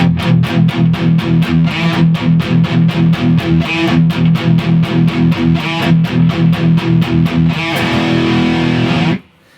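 Loud, fast chugging chords on a heavily distorted electric guitar, ending in a sustained ringing chord before cutting off.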